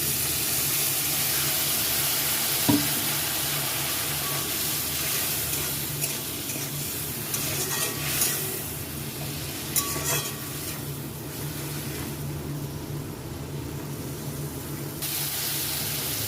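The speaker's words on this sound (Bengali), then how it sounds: "এখন মশলাটা খুব ভালো করে কষাবো। মশলাটা কষানোর জন্য একটু জল দিয়ে দিচ্ছি এখানে।" Spice paste for a potato and tengra fish curry is stir-fried in a pan with a splash of water, a steady close sizzle with occasional spatula scrapes and taps and no talking.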